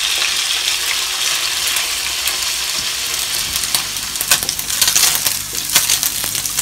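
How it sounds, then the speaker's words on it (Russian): Chicken pieces fry in the same oil left from cooking onions in a pan. A loud, steady sizzle and crackle runs throughout, with occasional clinks and scrapes as the food is stirred. No one speaks. "И в это же масло, в принципе, мы обжариваем нашу курицу."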